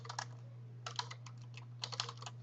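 Quiet bursts of typing on a computer keyboard, quick clusters of soft key clicks with short pauses between them, over a steady low electrical hum.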